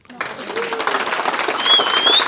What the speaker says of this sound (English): shall we applaud her?